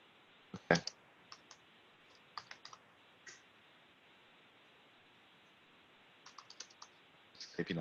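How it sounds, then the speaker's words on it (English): Typing on a computer keyboard, faint scattered clicks arriving in small clusters with long gaps, over a steady hiss of background noise. "Just typing up some stuff."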